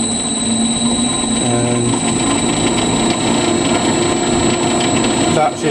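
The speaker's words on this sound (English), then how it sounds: "emco Mat 7 lathe running with the variable speed. You can see the inverter coming up to speed" An Emco Mat 7 lathe runs on an inverter-driven variable-speed motor, giving a steady mechanical whine and hum as it comes up to speed, with someone talking over it.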